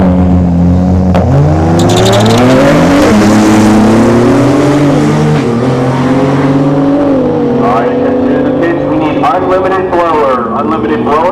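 Drag race cars at Orlando Speed World's Cadillac Attack event roar loud and close, engine pitch rising and shifting through revs, with a track announcer talking over the din throughout.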